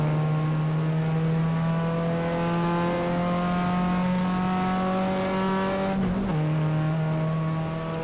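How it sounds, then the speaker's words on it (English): Holden Torana XU-1 race car from 1972 at Wanneroo in a racing game, its engine holding a loud, steady high drone that climbs gradually, with a brief gear-change dip near the end and no talk. "A massively successful race car, the Torana."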